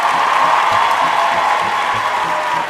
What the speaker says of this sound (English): Wait for applause.